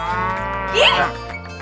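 A calf moos once, a loud close drawn-out bellow rising and then falling over a steady musical background, used as a comic sound effect.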